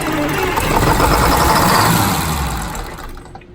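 A Detroit Diesel 6-71TA boat engine, one of a twin pair, runs loud and close at a fast, racing pace, a dense, steady roar that drops away as it shuts off.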